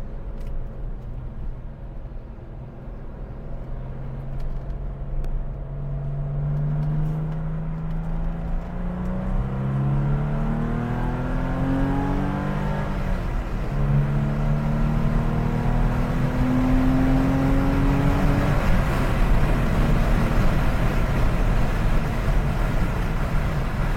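A Porsche 993's 3.6-litre flat-six engine drones steadily from inside the cabin, its pitch rising through several gears as the car accelerates.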